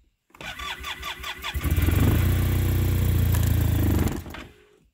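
An Arctic Cat Norseman engine that won't start after sitting all night cranks with a rhythmic starter chug, then rises to a loud, rough rumble for a couple of seconds before dying away.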